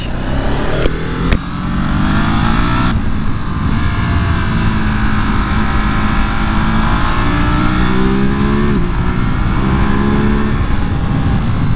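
A loud 2023 Ducati Monster SP motorcycle engine revs up through rising pitch sweeps on a mountain pass, shifting gears and accelerating steadily, close and continuous, with wind rushing past.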